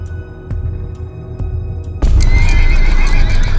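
Horses pulling loose of their reins whinny loudly in an animated story, a few sharp clip-clop hoof knocks at first, then a burst of loud, continuous neighing and stomping.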